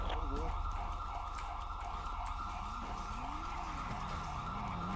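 A wailing police siren rises and falls over a steady engine hum in a roleplay video game, with game-like background noise and brief voices mixed in.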